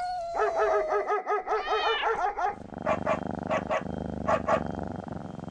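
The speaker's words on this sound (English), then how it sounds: "Dog." A dog lets out a quick run of rhythmic, whining growls and yelps, then several sharp, close barks spaced over about three seconds.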